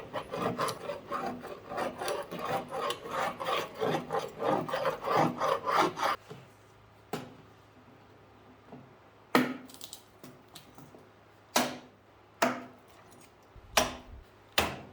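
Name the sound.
scraping excess glue off wood pallet boards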